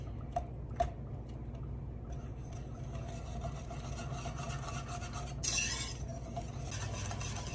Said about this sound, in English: Just sitting here whisking up the chocolate sauce.